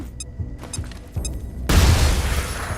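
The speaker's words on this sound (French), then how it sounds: "Grenade." A grenade goes off in the tactical video game XCOM: Chimera Squad, a sudden loud boom after a few short game-interface tones, followed by a sustained rumbling roar that fills the rest of the moment.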